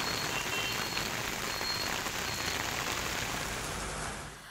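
Unseasonal heavy rain falling in Pune, a dense steady hiss of downpour hitting surfaces, continuous and fairly loud with no voices, fading slightly at the very end.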